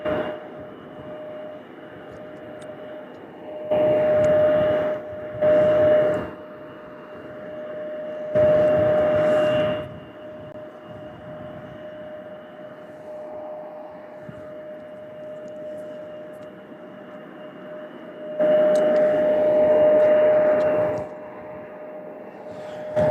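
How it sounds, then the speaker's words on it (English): An American Airlines jet departs Louisville International Airport as a steady distant roar with a sustained whine, swelling into several louder broadband surges, with no voices. "The noise you hear is the American, our next departure."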